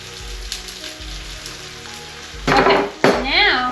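Garlic and onion fry in olive oil in a pot for soup, a soft continuous sizzle close by, with faint knocks, then a louder surge of hissing and clatter near the end as food is stirred; no talking.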